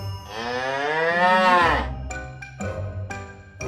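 A cow gives one loud, drawn-out moo close by, rising and then fading. A few short, sharp knocks and noises follow in the quiet afterward.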